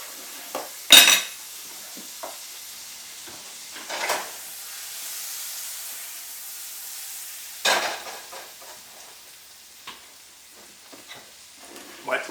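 Butter melting in a hot pan before pancake batter goes in, a soft steady sizzle broken by a few sharp clanks and scrapes of a utensil against the pan, close by with no talk.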